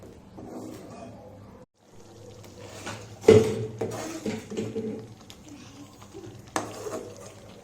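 A spoon stirs a thick sesame and tamarind chutney mixture in a pot, with soft scraping and a couple of sharp metallic clinks standing out against a quiet background.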